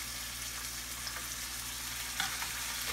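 Mixed vegetables, including chopped cowpea pods, brinjal and green chickpeas, sauté in oil with a steady dense sizzling hiss, close by, plus a brief stir or scrape near the end.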